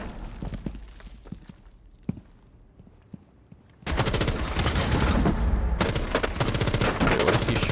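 Video game match gunfire: scattered quiet shots and footstep-like taps at first, then a loud, dense stretch of rapid automatic fire that carries on to the end.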